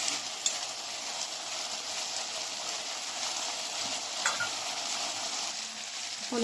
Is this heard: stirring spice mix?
yes